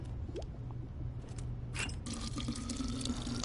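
Water being filled into a container in a video game: a soft, steady splashing and trickling stream that swells partway through and runs on to the end, over a low background hum.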